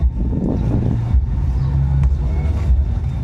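A BMW Motorrad big bike rumbles loudly and close at a motorcycle ride event in Vigan City, Philippines, its low engine note rising and falling in short revs against a busy outdoor background.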